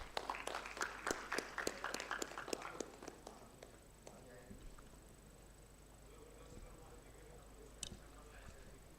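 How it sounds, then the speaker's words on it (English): Audience clapping for prize winners called onto the stage at a radiodiagnosis MRI and CT workshop and symposium: a burst of fairly sparse, distinct claps for about four seconds, then thinning to a few stray claps over quiet hall noise. "please give a huge round of applause"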